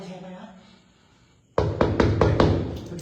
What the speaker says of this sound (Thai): เคาะมีเสียงเคาะกลับเลย